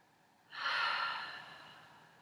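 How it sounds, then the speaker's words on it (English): A single breath exhaled out through the mouth during a yin yoga session, a soft airy rush that swells quickly, then slowly tapers away, close and alone. "Last 3 breaths, and letting the exhale come out your mouth."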